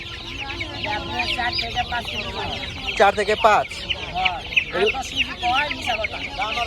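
Rooster and chicken clucking fills a busy bird and poultry market in Hemayetpur, with repeated close calls and bursts of loud squawking, while people talk over the birds.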